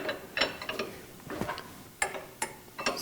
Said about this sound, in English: We'll countersink this just a little bit.